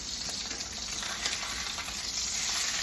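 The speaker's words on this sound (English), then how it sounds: "There goes the sound." Steak sizzling steadily in a frying pan just after being flipped, a dense close crackle of hot fat, with no talking.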